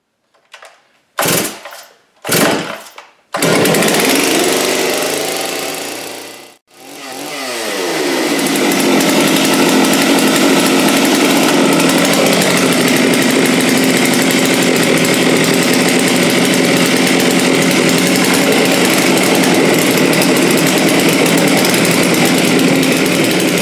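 A Farmertec 660 chainsaw is pulled over a few times in short bursts, catches, briefly dips, then screams into a loud, steady, sustained run at close range.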